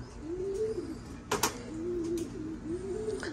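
Racing pigeons cooing in a loft, soft low rolling coos repeating about three times, with a brief flutter or rustle between calls and quiet surroundings.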